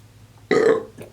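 A single loud, close burp of about a third of a second bursts out of a quiet room, followed by a brief faint trailing sound.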